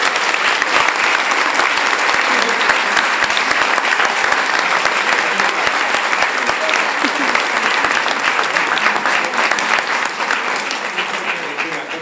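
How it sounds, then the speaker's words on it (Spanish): Sustained, dense applause from an audience at a year-end closing ceremony honoring an organizer, steady and loud before tapering slightly at the end. "Un aplauso para Andrés por la dinámica que le ha puesto este año."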